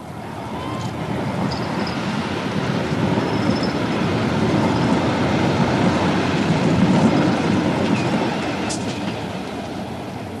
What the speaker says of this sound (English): Metro, Britain's first network of electric trams linked in with buses